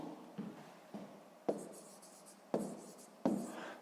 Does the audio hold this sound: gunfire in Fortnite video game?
no